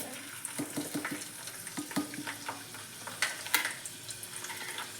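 Garlic dropped into hot oil in a pan for sambar, sizzling with a run of quick crackling pops and spits in the first seconds, then a softer, sparser sizzle with occasional sharp snaps.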